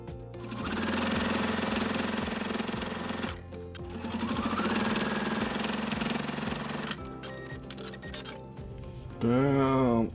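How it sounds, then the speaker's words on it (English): A sewing machine edge stitches fabric for a holiday stocking at about a 3 mm stitch length, with two long bursts of steady, loud mechanical running separated by short pauses, then a brief voice near the end. "Now I'm just going to edge stitch here, roughly in between the edge and 1/8 of an inch."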